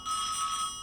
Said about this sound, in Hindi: तुम्हारा ही फोन है,